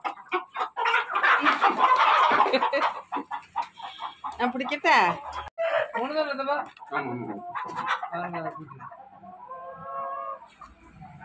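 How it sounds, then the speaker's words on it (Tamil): Fighting rooster clucking close by, short throaty clucks and squawks mixed in with people talking nearby, the bird's calls coming in bursts between and under the voices. "சரியான சண்டை கோழியாக்கும்"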